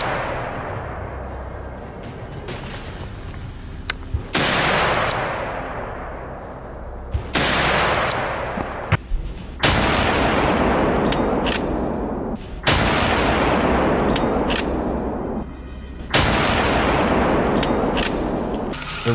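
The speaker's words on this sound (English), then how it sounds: "a rapid burst of gunfire erupts, taking down the two fattest beasts" Rapid bursts of gunfire from a wild boar hunt in swampy woods, crashing out in loud, sustained volleys with abrupt starts and brief gaps between them, with no talking.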